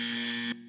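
A short electronic alarm buzzer blares as a steady tone for about half a second, then cuts off abruptly, played as a comedic sound effect on a podcast.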